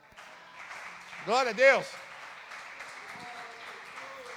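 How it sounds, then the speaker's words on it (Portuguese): A church congregation applauds in a scattered, moderate patter while a voice calls out loudly over the clapping partway through. "Salva de palmas para Jesus."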